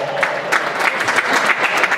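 Crowd applause at a motor race driver introduction, steady clapping from a gathered audience throughout, fairly loud and continuous with no voices over it.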